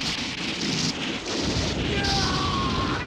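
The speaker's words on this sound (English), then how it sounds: "I don't like the sound effects for all the explosions." Explosion sound effects from the 1984 film The Return of Godzilla, heard as a dense, continuous rumbling roar with crackling debris-like texture that holds steady throughout and sits loud and near.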